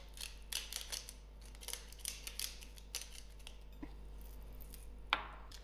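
Black pepper goes through a hand grinder in a quiet kitchen where a grilled haloumi sandwich is being assembled, giving a series of faint, irregular crunching and clicking bursts with no voice over them.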